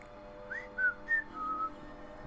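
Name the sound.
person whistling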